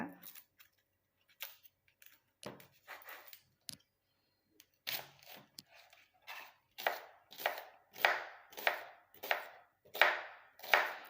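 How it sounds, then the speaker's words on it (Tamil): Onion being chopped into small pieces with a knife on a board, sparse irregular cuts at first, then a quicker, louder rhythmic run of close chops. "இந்த வெங்காயத்தை கொஞ்சம் அறப்படுற மாதிரி பீஸாக நம்ம வந்து அரிஞ்சு போட்டுக்கலாம்"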